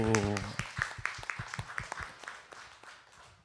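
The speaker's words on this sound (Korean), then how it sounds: "오늘 밤에 우리 청년들 우리 박수 한번 쳐주세요" Church audience clapping for the youth at a Friday worship service, a scattered run of claps that is loud at the start under a voice, then thins and fades.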